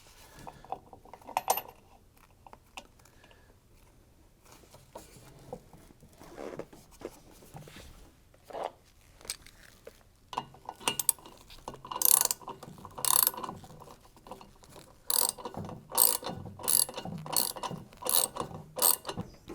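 Bolt and washer being tightened in the centre of an LG washing machine: quiet scattered clicks give way to a run of sharp, rapid ratchet clicks in bursts, close and fairly loud, with no voices.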